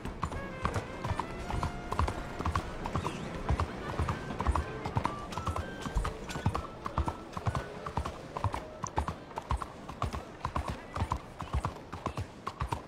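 Horse hooves clip-clop in a steady rhythm through a lively rodeo show setting, close and continuous, with crowd noise and voices running underneath and a brief whinny.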